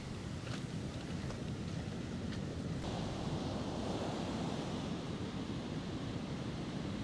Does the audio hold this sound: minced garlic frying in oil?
no